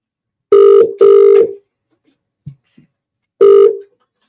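A telephone rings on an outgoing call that goes unanswered, three loud electronic ring tones, two back to back and then a third after a pause, with faint small noises in between.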